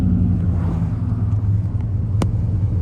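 A rebuilt junkyard engine runs at about 1500 RPM, a close, steady low rumble with a smooth even hum and one brief sharp click, no voices.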